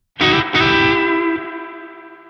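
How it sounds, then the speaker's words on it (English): A single guitar note struck twice in quick succession, then ringing out with a long, smooth reverb tail that fades slowly. "play very briefly and pay attention to the reverberation"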